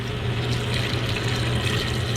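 Chicken stock pours steadily into a gumbo pot, a continuous liquid rush and splash heard close up with no talk.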